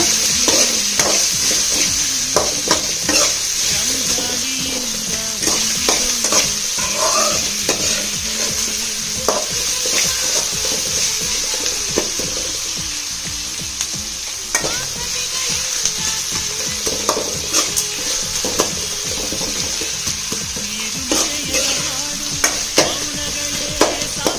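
Onions frying in a pan with salt added, a steady loud sizzle running throughout, broken by frequent scraping and clacking as a spoon stirs them, during preparation of a sour raw-mango chitranna rice dish.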